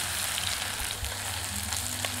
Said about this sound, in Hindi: अब इसमें हम डालेंगे लहसुन। इसको 2 मिनट फ्राई करेंगे।